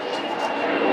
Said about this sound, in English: Dang you, jet planes!